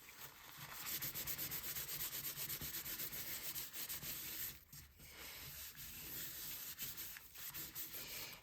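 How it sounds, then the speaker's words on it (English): Cloth wiping excess ink off inked artistic leaves in a craft technique, a soft close rubbing and scrubbing in repeated strokes with a short pause midway. "we're going to wipe the leaves off"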